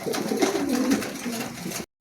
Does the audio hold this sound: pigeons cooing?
yes